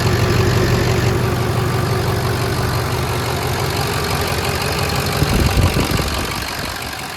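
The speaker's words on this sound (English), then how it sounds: "Start this thing up, see how she acts," A truck's diesel engine runs at a steady, loud idle right after an injector harness (FICM harness) repair, with a dense low rumble and a few brief knocks or clatters near the end; no one speaks.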